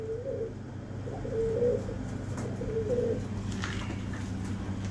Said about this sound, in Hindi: सियालकोटी परिंदा है